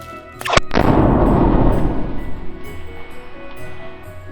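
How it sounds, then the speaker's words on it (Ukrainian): A sharp loud pop bursts from a champagne-bottle-shaped party popper, followed by a brief crackling rustle that fades away over a few seconds, with no talking. "найдорожча хлопавка у формі пляшки шампанського"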